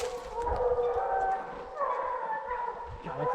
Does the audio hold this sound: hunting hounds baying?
yes